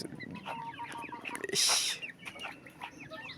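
Several chickens in a backyard coop cluck and chatter up close, their calls overlapping steadily, broken midway by a brief loud hissing burst.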